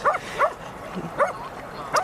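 A dog barks in a series of four short, sharp yips spaced about half a second apart, fairly faint, during a dog-training session.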